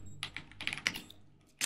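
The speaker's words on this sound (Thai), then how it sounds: "มาเกมนี้เราจะเน้นเสียงคีย์บอร์ดเป็นหลักเลยนะครับ" Computer keyboard typing in the hacking video game Hacky: several quick bursts of clicky keystrokes in an uneven rhythm, close and fairly soft, with a short pause before a final burst.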